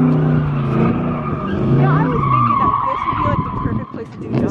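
Ford Mustang Mach 1 tires squealing and skidding while it does donuts, a loud sustained screech with engine roar that wavers in pitch, with voices talking over it.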